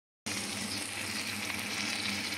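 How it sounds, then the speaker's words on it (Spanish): Small homemade ground-meat burgers sizzle in a pan, a steady close crackling hiss that starts abruptly and runs on without pause. "Y aquí estoy haciendo unas hamburguesitas de quesca"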